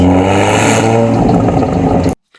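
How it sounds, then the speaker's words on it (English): A Volkswagen Golf 8 R with the optional Akrapovic titanium four-pipe exhaust revs hard and close, a loud, steady engine roar that builds with clattery exhaust texture before cutting off abruptly into near silence. "The rear end of the car is finished off by the optional Akrapovic titanium exhaust system with its 4 pipes."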